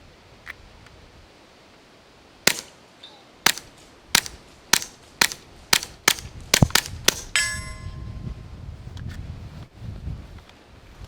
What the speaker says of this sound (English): We put the threaded barrel and the suppressor on it, so we're going to fire a couple mags through